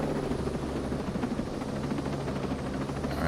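Helicopter in the video game Ghost Recon Breakpoint, a constant loud rotor thrum and turbine whine with steady blade chop, close and continuous with no talking.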